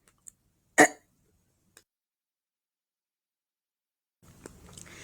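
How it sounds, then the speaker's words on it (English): A single short, sharp throat clear close to the microphone, surrounded by near silence and a couple of faint clicks, followed by low background noise. "I need to clear my throat."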